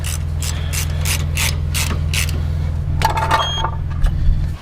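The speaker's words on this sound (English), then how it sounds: "now I'll torque this down" Ratchet wrench torquing down a tow hitch ball mount: a run of rapid, loud ratcheting clicks in short bursts over a steady low engine hum, finishing with a few heavier strokes.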